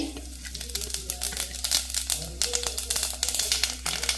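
Cumin seeds frying in a spoonful of ghee in a pressure cooker crackle and spit in quick irregular pops over a low steady hum, close by and fairly loud throughout.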